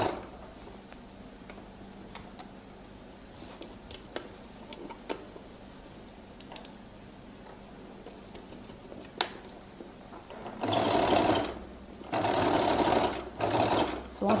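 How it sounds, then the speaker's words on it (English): Sewing machine stitching a flared skirt, with scattered light ticks and handling noises before loud bursts of fast, steady machine stitching in two runs near the end. "I roll it open and I now begin to stitch."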